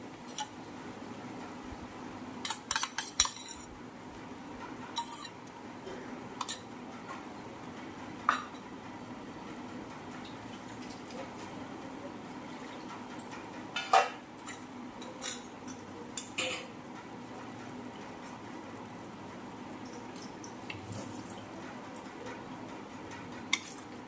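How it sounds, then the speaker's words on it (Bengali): A bowl of sour yogurt being whisked by hand, with sporadic clinks and taps of a utensil against the bowl scattered through a quiet kitchen background. "টক দইটা একটু ফেটিয়ে দিয়ে দেবো"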